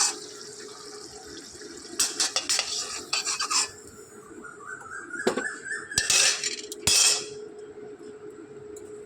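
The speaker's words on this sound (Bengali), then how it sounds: "চামচ দিয়ে তুলে নেবো এগুলোকে" A spoon lifting fried potatoes out of a cooking pan gives scattered metallic clinks and scrapes in short bursts, close and fairly quiet, with a soft hum underneath.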